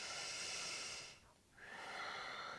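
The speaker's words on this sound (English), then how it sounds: "Take a full breath here." A single full, deep breath taken during yoga practice, a soft airy inhale that dips briefly in the middle before a steady exhale, close and quiet.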